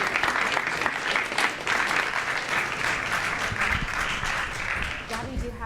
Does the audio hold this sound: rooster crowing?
no